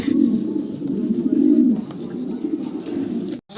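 Fancy pigeons, including a black-checker pair, coo in steady low rolling phrases close up, the cooing continuous and fairly loud with no talk, ending in a brief gap.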